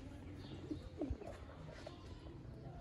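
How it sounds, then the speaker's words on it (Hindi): Soft cooing of Sialkoti pigeons, a few low murmuring coos against steady background noise. "जौनसरे मोतियों वाले कबूतर।"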